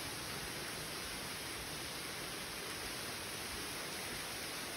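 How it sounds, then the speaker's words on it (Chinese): A small waterfall in a bat cave gives off a steady, even rush of falling water that fills the whole space, continuous and fairly soft, with no voices. "那边有小瀑布"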